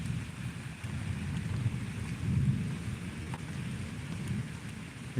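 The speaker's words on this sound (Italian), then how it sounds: "E qua, wow, proprio un fulmine è caduto proprio a mare." Thunder from lightning striking the sea during a severe night storm rumbles low and steady under constant rain, swelling briefly midway before settling back to a dull roll.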